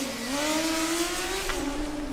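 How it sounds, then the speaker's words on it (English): Coburg Formula Student race car lapping the endurance track, its engine note holding a steady high drone and rising slightly in pitch, close and loud, with no voices over it. "We have a new car joining us on track. By the sound of it, that's Coburg."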